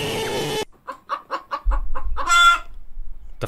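A hen clucks in a quick series of short, evenly spaced calls, then a rooster lets out a loud crow over a low rumbling background.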